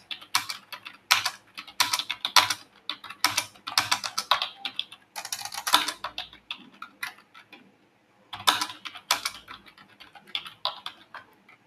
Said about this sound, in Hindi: चलिए इसे हम फटाफट से टाइप कर लेते हैं।